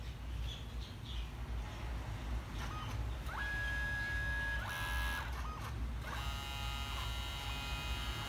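A portable photo printer runs a print job, feeding paper with a steady mechanical hum and a few higher-pitched whining passes, heard close and fairly quiet with no speech over it.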